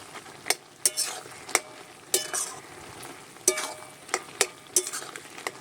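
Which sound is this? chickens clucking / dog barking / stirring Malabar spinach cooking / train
stirring Malabar spinach cooking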